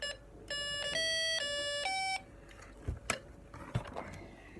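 Electronic construction kit circuit sounding its alarm: a loud buzzing electronic tone pulses in several bursts over about two seconds, then stops, followed by faint clicks and handling noises.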